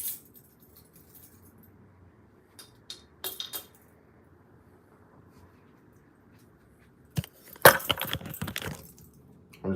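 Keys jangling in short, bright bursts: a faint rattle early on, then a louder cluster of metallic clinks and shuffling toward the end, close against a quiet room background.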